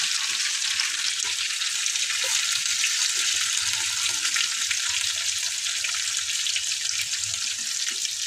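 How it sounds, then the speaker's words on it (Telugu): Fish eggs frying in a pan at home, a continuous bright sizzle with steady crackle and no pauses, close and moderately loud with nobody talking. "Fish egg fry."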